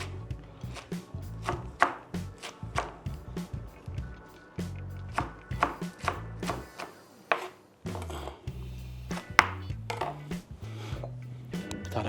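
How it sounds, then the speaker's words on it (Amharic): Cabbage chopped with a knife on a board: a run of quick, rhythmic, close chops with short pauses between bursts, alone without talk. "እንዲህ ያደረግን ጎመን እንከትፋለን።"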